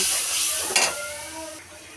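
Onions and spice paste sizzling in a pan for cooking greens, a steady close hiss with a brief louder burst of frying partway through as they are stirred.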